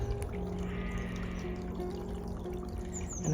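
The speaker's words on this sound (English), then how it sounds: "it's a constant trickle of water coming down here, often a very strong" Water trickles steadily down a small spring-fed stream on a farm, a constant soft wash with faint tones running through it, no voices heard.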